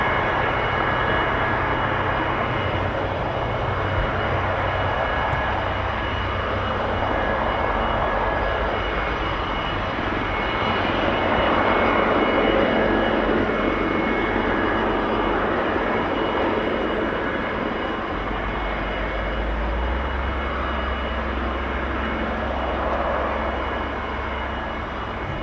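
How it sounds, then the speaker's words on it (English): Sustained broad jet roar of a reconnaissance aircraft flying at the RAF Fairford air tattoo, a loud, steady rushing drone across the whole stretch with slow swells in intensity. "reconnaissance aircraft,"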